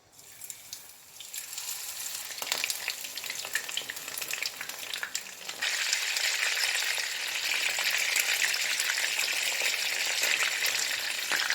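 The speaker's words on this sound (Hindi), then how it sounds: "यहाँ पर मैंने ऑयल पैन में गरम कर लिया है दरमियानी आंच पर। अब मैं इसमें फिश को डालूंगी।" Fish frying in oil heated over medium flame in a pan: a soft crackle at first that swells into a loud, dense, steady sizzle once the pieces settle in, with no voices.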